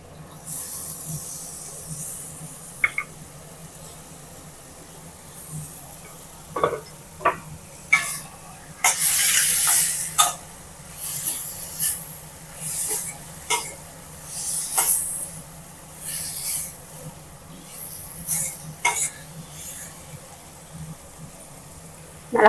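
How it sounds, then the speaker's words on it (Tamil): Potato pieces added to tomato and onion already softened in a pan for a Tamil-style curry hiss and sizzle steadily, with sharper bursts of spitting and louder frying around the middle. "தக்காளி வெங்காயம் நல்லா வதங்கிருச்சு. நம்ம கட் பண்ணி வச்சுருக்க உருளைக்கிழங்கை சேர்த்துக்கலாம்."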